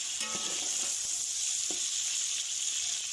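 Chicken, 1.5 kg, is added to hot oil in a pot for biryani and sizzles in a steady, loud hiss of frying, with a few soft clinks and stirring sounds near the start.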